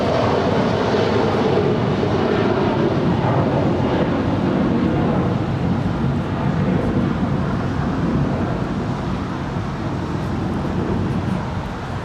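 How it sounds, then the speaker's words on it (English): A United Boeing 757-300 departing LAX for Honolulu: a loud, continuous jet roar fills the clip from start to end and fades only slightly, with wind rumbling across the microphone. "This is United 1431 departing to Honolulu. It's a 757-300."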